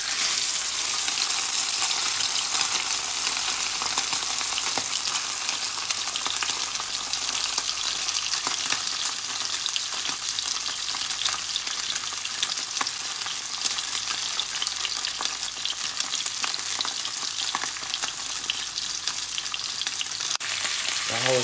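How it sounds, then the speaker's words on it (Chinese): Rainbow trout fries in a wok, a steady loud sizzle and crackle of hot oil running unbroken throughout with no talk. "然后鱼放入锅中，"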